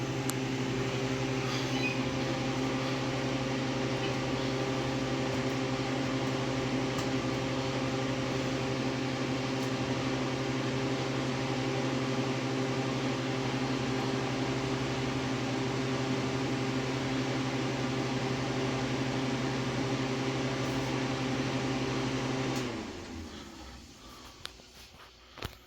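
A freeze dryer runs with a steady, loud mechanical hum and whir from its compressor and vacuum pump, holding constant for most of the stretch before cutting off abruptly near the end, leaving a quiet room.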